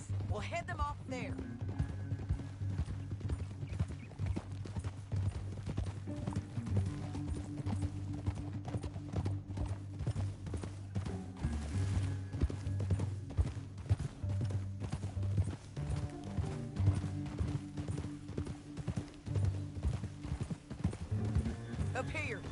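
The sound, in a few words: horses riding in video game Red Dead Redemption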